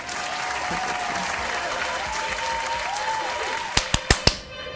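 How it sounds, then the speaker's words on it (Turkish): Applause sound effect, a continuous crowd clapping wash at moderate loudness, followed near the end by four sharp, separate, louder claps before fading out. "Bir tane daha alkış istiyorum."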